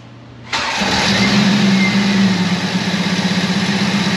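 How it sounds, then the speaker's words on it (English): A 1995 Jeep Wrangler with the 4.0 engine cranks and fires after a brief quiet moment, then settles into a loud, steady rough idle up close. "Okay, starting the engine."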